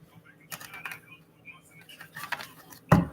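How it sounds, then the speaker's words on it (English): Playing cards are shuffled and split in a quiet room, giving scattered soft riffling clicks and flutters, with one sharper, louder snap of the deck near the end. "I'm shuffling and splitting."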